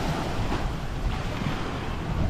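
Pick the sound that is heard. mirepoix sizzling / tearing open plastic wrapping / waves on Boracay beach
waves on Boracay beach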